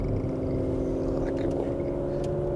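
2020 Porsche Macan GTS pulling away, a steady low engine drone heard from inside, loud and constant with no clear rise in revs.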